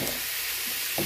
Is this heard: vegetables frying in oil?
yes